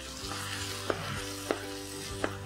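Mashed smoked eggplant for baingan bharta is mixed and fried in a kadhai, making a soft continuous sizzle with three distinct scraping clinks of the spoon spaced about half a second apart.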